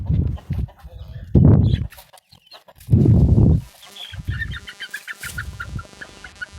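Young crossbred chickens, a mix of colourful and native kampung birds, make loud close clucks and squawks in bursts, followed by a run of high, rapid peeping chirps.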